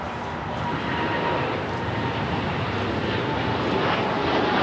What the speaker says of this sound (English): This is United Airlines 801 taking off to Hong Kong